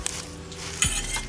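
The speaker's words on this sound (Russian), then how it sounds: "Вот здесь у нас кедровые орешки. Надо его поджарить, чтобы его аромат раскрыть." Pine nuts dry-roasting in a pan without oil give a brief scrape and rattle of stirring, with a faint sizzle and one sharper knock of a utensil against the pan partway through.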